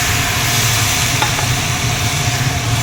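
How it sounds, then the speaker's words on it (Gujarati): Garlic crackling in hot oil, a loud, steady, dense sizzle with a low background hum underneath, close and unbroken throughout, no speech. "સરસ તેલમાં બધું થઈ જાય ને સરસ એકદમ લસણ કકડી જવું જોઈએ અંદર"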